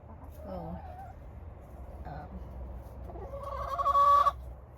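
A laying hen on a homestead clucks and calls, a few soft vocal bursts building to a louder, sustained squawk near the end, close by with light background noise.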